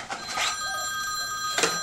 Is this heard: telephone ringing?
yes